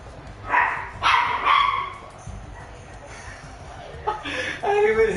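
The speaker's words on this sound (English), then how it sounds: "I just did this to Michael and he started barking" A dog barks in several short, loud bursts spaced across a few seconds, with a person laughing and chattering nearby.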